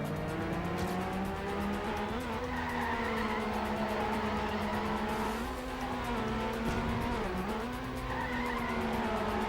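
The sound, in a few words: car driving on the road in the video game Trackmania United Forever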